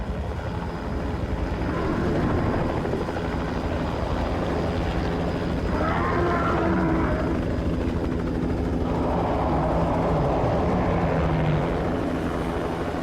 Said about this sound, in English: But then a helicopter flies in